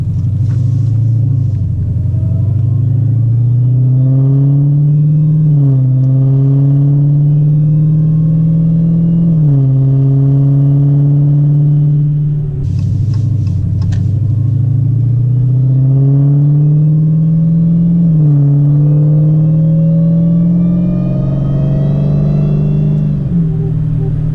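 Engine rumble from a car driving on the road, recorded from inside, a loud steady drone rising and falling through repeated accelerations and gear shifts, with faint talk underneath.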